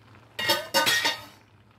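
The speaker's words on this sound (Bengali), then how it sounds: "আমি এখন ঢাকাটা খুলছি।" The lid of a cooking pot lifts off while vegetables boil in milk for a Bengali dudh sukto. Two close metallic clinks follow quickly one after the other, with a faint background hum and no speech.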